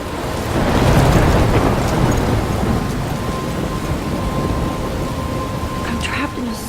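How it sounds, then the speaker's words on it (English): A thunderstorm in the video game Life Is Strange: heavy rain pours continuously while a deep thunder rumble swells early and then rolls on beneath the downpour, loud and enveloping. "I'm trapped in a storm."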